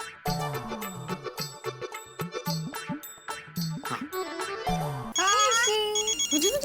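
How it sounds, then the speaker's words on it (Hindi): A melodic electronic phone ringtone plays loudly and repeatedly in short tuneful phrases, then shifts into a warbling ringing pattern near the end. "दया दया बापूजी भिड़े का फोन है, स्पीकर पे कर।"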